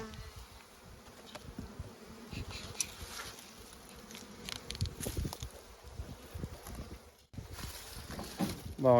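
Honeybees buzz continuously at close range while feeding on bread laid over the hive, a dense humming swarm with rustling and light handling noises mixed in.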